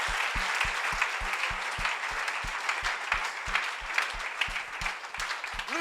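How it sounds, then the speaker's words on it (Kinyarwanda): A church congregation at a sermon claps in steady rhythm, with evenly spaced beats running throughout under a bright wash of applause. A few voices rise faintly within the crowd. "Piga makofi kwa Bwana Yesu."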